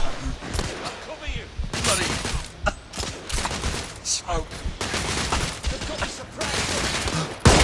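Heavy gunfire in the third-person shooter The Order: 1886, repeated bursts and single shots in quick irregular succession, loud and close, with a voice talking intermittently over the firefight.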